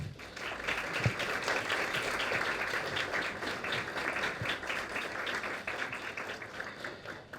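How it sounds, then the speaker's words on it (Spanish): Sustained audience applause for Oscar Steinberg at an inaugural semiotics lecture in Argentina, a steady dense wash of many hands clapping from start to finish at moderate level, with no speech over it. "Así que pido para él un fuerte aplauso."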